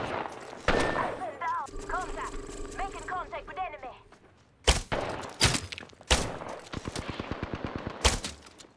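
A new bow fires in the battle-royale game Apex Legends, several sharp, punchy shots spaced a second or so apart, with a burst of rapid clicks between them and someone talking early on.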